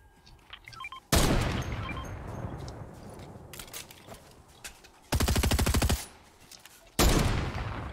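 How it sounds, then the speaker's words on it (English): Gunfire in the video game Fortnite: a sharp loud burst, rapid automatic volleys of shots in two dense bursts later, with scattered quieter shots between, no talk. "Oh, they're being shot at by somebody else."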